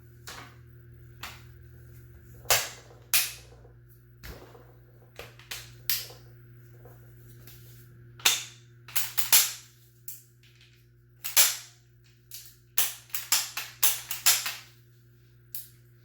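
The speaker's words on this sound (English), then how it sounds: "slides in and then slides up. Lock into place. Push it in and then push it up." Parts of a B&T APC9 submachine gun sliding and locking together during reassembly, a series of sharp metallic clicks and snaps, some isolated and some in quick clusters, close over a faint steady hum.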